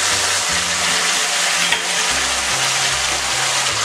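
Cumin and chili pastes fry steadily in a pan, giving a continuous loud sizzle with a low intermittent hum underneath and a single brief clink partway through.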